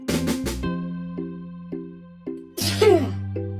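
One sharp human sneeze bursts out near the end over a cheerful children's musical backing, preceded by quick breathy intakes, close and loud.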